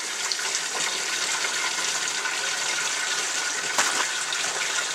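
Cold water gushes steadily from a tap into a sink in a taxidermy shop, rinsing suds from a squirrel hide; the broadband rush of water runs continuously and close up, with a brief splash shift near the end.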